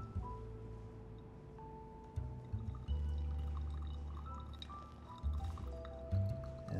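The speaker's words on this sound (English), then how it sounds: "give it a nice final pour, hit all those grounds once more, and we'll let it drain." Hot water poured from a kettle over coffee grounds in a Chemex pour-over brewer, a soft continuous trickle and drip with faint gurgling, quiet and close, no talking.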